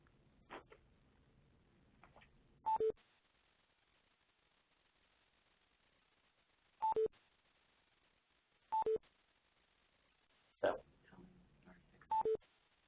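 Telephone keypad tones beep in short paired bursts, spaced several seconds apart, as callers press keys on a conference call line, with faint background noise between the presses.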